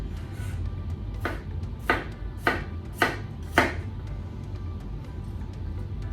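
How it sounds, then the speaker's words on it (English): A knife pushing through a red onion on a board, making about six evenly spaced crisp slicing chops over a low background hum, close and fairly loud. "using your knife, pushing through with the knife, and get some nice slices of the red onion"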